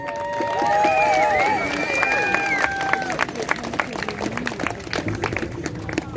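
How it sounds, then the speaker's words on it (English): Crowd at an outdoor freedom rally in Kelowna cheers, with rising whistles and shouted voices at first, then scattered clapping and crowd hubbub that continues after the cheering. "Wow, what a nice crowd."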